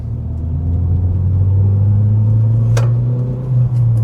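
A petrol car running on a 40% diesel fuel mix accelerates with a loud, steady low engine drone that rises gently in pitch, with a brief sharp knock near the end.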